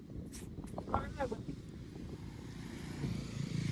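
Motorbikes ride along a mountain road toward North Sikkim, their steady engine rumble and wind noise running throughout, with a person talking over it early on.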